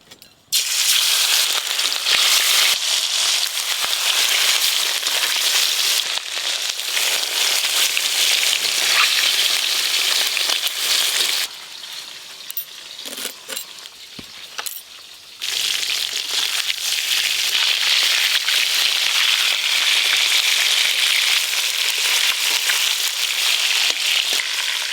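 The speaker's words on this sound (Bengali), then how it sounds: "মাছগুলো ভেজে নেব।" Pieces of a large silver carp frying in hot oil, a loud, dense, steady sizzle and crackle that runs nearly throughout, easing briefly midway before resuming at full strength.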